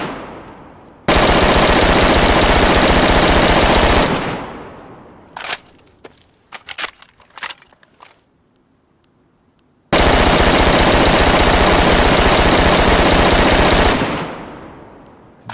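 An M4 rifle fires on full auto in a video game: two long, loud, sustained bursts of rapid gunfire, separated by a gap of scattered single shots and clatter.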